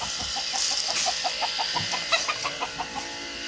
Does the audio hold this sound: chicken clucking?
yes